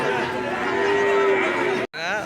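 A cow at a cattle market in Keraniganj moos in one long, steady low call, then breaks off; a brief second call starts right after, close and fairly loud with no talking.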